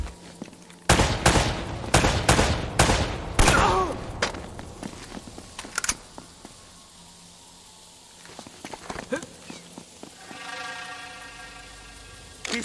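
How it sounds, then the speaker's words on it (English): A close volley of rapid gunshots and bursts of fire, followed by scattered lighter shots and quieter gaps, ending in a ringing tonal sound. "Seem to be getting shot at."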